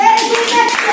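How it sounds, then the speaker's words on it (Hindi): A classroom of students clapping to reward a correct answer, a short burst of close, bright hand claps with a faint voice underneath. "तालियां।"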